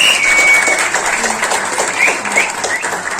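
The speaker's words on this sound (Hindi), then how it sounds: "एक बार जोरदार तालियां हो जाए।" Audience applause at a memorial tribute concert honouring a singer, a steady wash of clapping from a crowd that fills the whole stretch at an even level, with faint voices mixed in.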